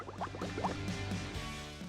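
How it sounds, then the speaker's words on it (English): Sprite is poured into an empty glass, giving a short run of gurgling, bubbly splashes with rising pitch as the glass fills just over halfway, close and fairly quiet. "pour the Sprite into an empty glass, but only fill it about just over halfway."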